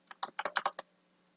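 Quick run of keystrokes on a computer keyboard while entering code for a React web app, seven or so close clicks in a short burst, then quiet.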